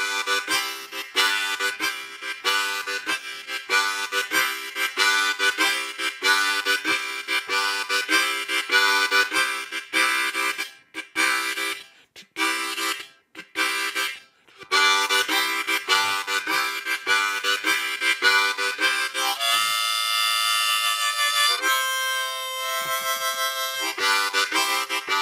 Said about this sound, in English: The next pattern we have is a simple blues shuffle.